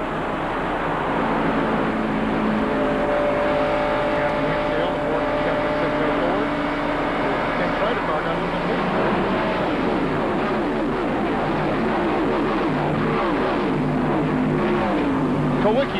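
Stock cars race at Michigan in the 1992 Champion Spark Plug 400, a continuous loud roar of many engines with shifting pitch as the pack passes, under steady commentary.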